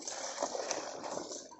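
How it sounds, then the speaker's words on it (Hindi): Water poured from a bucket into a 25,000-liter biofloc fish tank holding pangasius, a steady splashing, gurgling stream heard close up for a second and a half with no talk over it. "बाल्टी से डाल दो पानी।"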